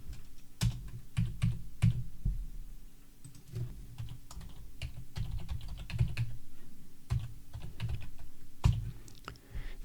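Computer keyboard typing clicks away in uneven bursts of keystrokes, close and clear in a quiet room with no talking.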